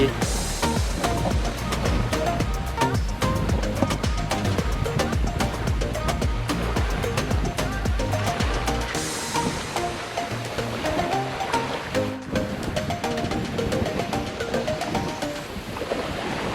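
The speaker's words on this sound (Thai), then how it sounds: "แล้วก็มาเจอบีชเบา ๆ ตรงนี้แล้วนะฮะ" Surf rolls onto a beach in America in a constant loud, dense roar, mixed with gusting wind, with no voices over it.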